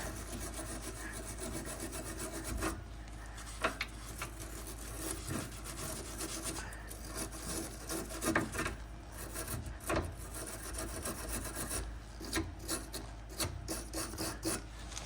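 A brush or tool scrubs the bolt threads on a car's rear sway bar, an Acura TSX, producing a continuous close raspy rubbing with irregular scraping strokes and brief knocks, no talking.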